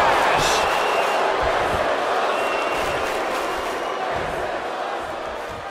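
Arena crowd roaring and cheering in the WWE 2K22 wrestling game during a SmackDown women's match, a steady dense wall of noise that holds for the whole stretch and eases slightly toward the end.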